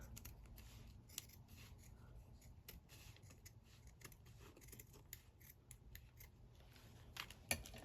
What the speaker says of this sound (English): let's just snip this off